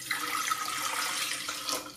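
Tap-like water pours steadily into the inner pot of an Instant Pot Duo Mini pressure cooker, a continuous close splashing and gurgling rush with no talking.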